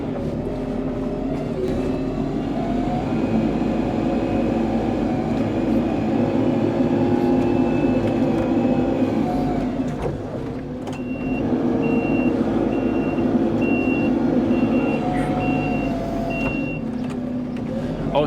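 A mini Merlo 27/6 telehandler turns with its engine running steadily and close by, while a high reversing beep sounds in regular pulses through part of the manoeuvre.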